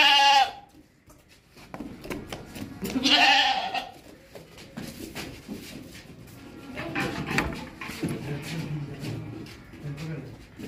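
A male goat standing alone bleats loudly at close range, one strong cry and then a second, while someone talks through most of the scene over background bustle.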